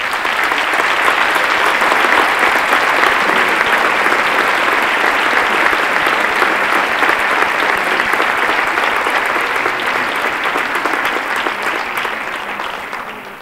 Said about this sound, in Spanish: yo les pediría un fuerte aplauso para todos ellos y todas ellas